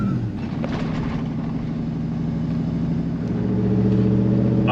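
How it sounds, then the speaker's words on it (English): A Nissan Patrol Y62 with a straight-piped exhaust runs close by. Its deep, rumbling engine drone holds steady, then swells louder and lower toward the end, with no talk over it. "and then he's straight piped it after that. And now it is ridiculously, in the words of Tough 62, redonkulously loud."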